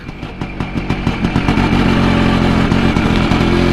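A WSK 125 motorcycle engine runs close by, starting with a few uneven revving pulses before settling into a loud, steady, rattling idle with its repeated firing beat.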